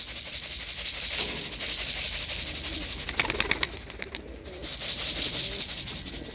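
A Dumanlı pigeon arrives with soft wing flutters against a steady hiss of outdoor noise, including a brief burst of flapping partway through.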